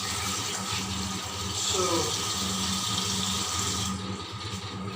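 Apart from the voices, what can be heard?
water draining while rinsing sabudana sago beads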